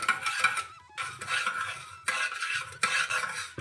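A spoon stirs panchamrut of milk in a bowl, giving a series of clinking, scraping strokes in bursts with short pauses between them. The sound is close and fairly quiet, and nobody talks.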